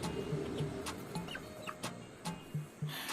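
A rooster and a hen cluck quietly in short, low, repeated bursts scattered through the clip. The clucks are soft and close, with faint squeaky calls over a hissy background and no speech.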